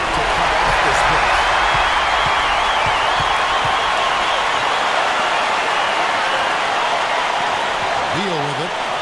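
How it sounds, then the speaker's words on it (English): A dense, steady roar of cheering from a basketball crowd in the NBA 2K16 video game fills the whole stretch at high level, with a few sneaker squeaks and the sound of the game beneath it. "That's how you get the crowd on its feet."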